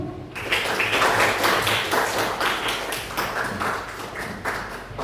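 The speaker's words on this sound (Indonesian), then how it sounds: "Tepuk tangan untuk kita semua." A group at an emotion-management training session claps together, a dense patter of hands that stays steady and fairly close for several seconds, with no voices over it.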